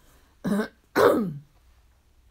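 Two close coughs, a short one followed by a fuller, rougher one, in an otherwise quiet room.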